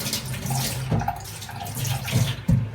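Garlic cloves, scallion and thyme rinsed together under a running kitchen sink tap, a steady near splash of water with a few louder knocks and splashes as the herbs are handled, no talking.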